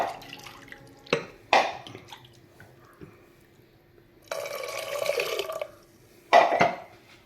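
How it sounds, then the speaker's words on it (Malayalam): Water is poured into a pan of Kerala-style prawn (chemeen) curry in short splashing bursts, with one longer pour in the middle, close and fairly quiet against a silent room. "പാകത്തിൽ നമുക്ക് ആവശ്യമുള്ള വെള്ളം ഒഴിക്കുക."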